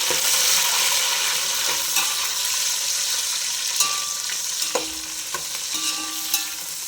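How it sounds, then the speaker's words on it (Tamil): Onions, green chilies and tomatoes sizzle steadily in a pan for mutton biryani, a loud continuous frying hiss with occasional stirring scrapes and clinks, close up and without talk. "தக்காளி கொஞ்சம் நல்லா வதங்கட்டும்"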